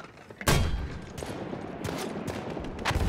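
Mortar fire in the video game Battlefield 1: a loud, sharp blast that is followed by a run of further bangs and rumbling, dense explosions in a wartime battle mix.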